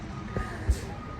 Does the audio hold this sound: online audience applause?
no